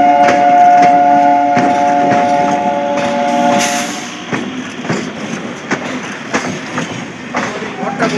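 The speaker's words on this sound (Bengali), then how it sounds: "সো একটা ট্রেন ঢুকছে বন্ধুরা, সোনারপুর লোকালই ঢুকছে" A Sonarpur local train pulls into a station, a loud horn blast at first, then rolling wheel clatter and rhythmic clicks as the carriages slow, with some voices in the background.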